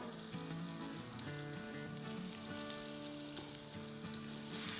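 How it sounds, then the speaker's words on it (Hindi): Half a cup of chopped onions sautés in about six tablespoons of hot oil over a medium-high flame, giving a steady soft sizzle throughout alongside faint background tones. "इसमें अब डालेंगे आधा कप चॉप की हुई प्याज।"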